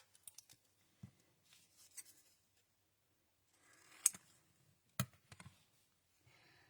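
Scissors snipping through paper during cardmaking, a few sharp isolated cuts spaced apart with faint rustling between, close but quiet.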